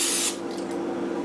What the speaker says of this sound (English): I'm just going to use a little non-stick spray.